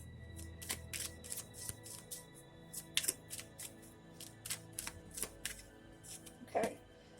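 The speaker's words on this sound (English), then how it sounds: "I'm going to start wrapping up this reading by drawing out a couple of cards from the Prisma Visions Tarot." Cards drawn and shuffled from a Prisma Visions Tarot deck make a quick run of close, crisp flicks and riffling taps, uneven in rhythm, with a slightly louder rustle near the end.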